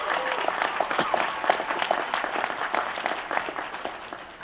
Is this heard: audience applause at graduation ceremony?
yes